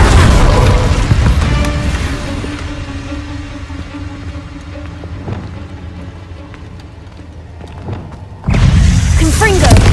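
An Incendio fire spell cast in Hogwarts Legacy, a loud booming whoosh that starts heavy and fades over several seconds, then a sudden burst of loud combat noise at the end, with speech heard.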